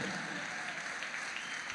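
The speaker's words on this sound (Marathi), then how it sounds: "याच्यासाठी तरी टाळ्या वाजवाच माझ्यासाठी." Audience at a Maharashtra association convention in San Jose applauding a speaker, a dense, steady wash of many hands clapping at moderate distance, with no voices over it.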